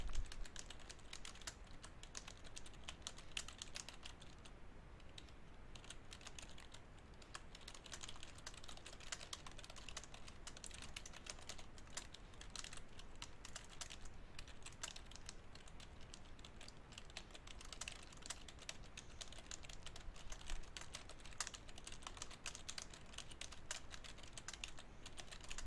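Steady keyboard typing of a letter's paragraph, a continuous run of quick, fairly quiet key clicks lasting throughout with no pauses for speech.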